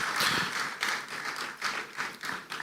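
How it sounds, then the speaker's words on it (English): An audience applauds a Minister of Power at a renewable energy company launch: steady, dense clapping from a fairly large crowd swells in even pulses with no voices over it. "May we just keep that applause going for the Minister?"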